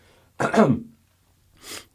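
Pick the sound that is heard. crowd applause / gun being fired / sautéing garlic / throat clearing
throat clearing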